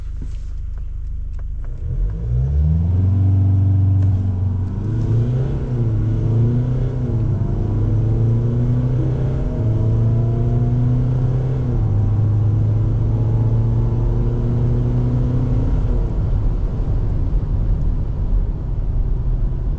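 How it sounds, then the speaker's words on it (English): A loud diesel engine in a 2025 LDV Terron 9 revs steadily upward as the vehicle accelerates, its droning pitch climbing through several gear-like steps over a deep, constant rumble. "I'll try building the engine revs up a bit."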